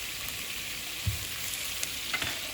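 Meat for kufteh ghelgheli frying in a pan, with a steady close sizzle and a few soft clinks and stirring knocks, and no talking.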